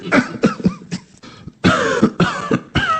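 Repeated coughing, around eight or nine harsh bursts in an irregular rhythm, close and fairly loud, some rough and throaty, during a narrated Bengali humorous story.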